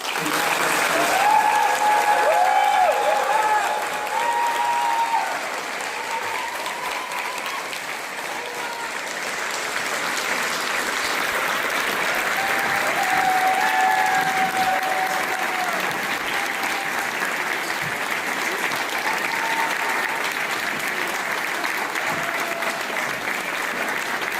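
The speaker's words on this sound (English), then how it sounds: "Let's give the new initiates a warm round of applause." Warm audience applause at a Phi Beta Kappa initiation ceremony, a long sustained round of dense clapping from a crowd in a large room, with faint voices and a few whistles mixed in.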